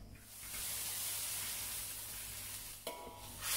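Blended spice paste drops into hot frying oil and sizzles with a loud, steady hiss, then a brief stir or clatter near the end, close up and without talking.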